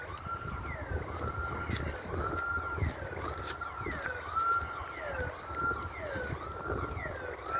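An alarm siren sounds indoors in an apparently empty building, a repeating rising-and-falling wail that cycles steadily and loudly over a constant background hum.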